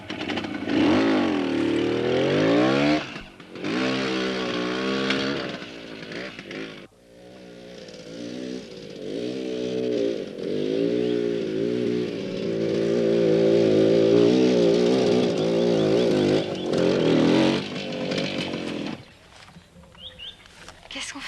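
A motorcycle engine revving and labouring along a narrow mountain smugglers' trail, its pitch rising and falling in uneven surges with brief cut-offs, loud and close.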